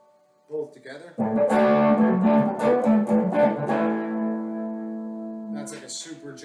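An orange 2017 Squier Affinity Stratocaster electric guitar played clean with both pickups selected for a mellow, jazzy tone: a few brief notes, then a sustained chord-rich passage that rings and decays, fairly close and loud.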